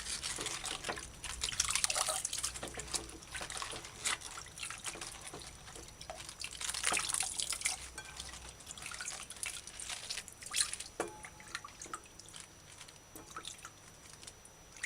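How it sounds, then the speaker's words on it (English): Water splashing and dripping over cabbage leaves being rinsed in a basin, a continuous wet trickling with soft squishes and irregular drips, close and fairly quiet. "you gotta get the water in between the leaves and kind of rinse it properly"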